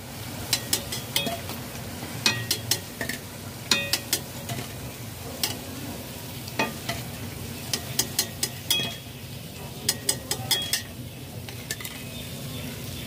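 Rajasthani dal pakoras frying in oil over a low-medium flame give a steady, close sizzle, broken by frequent sharp clinks and scrapes of a utensil stirring in the pan.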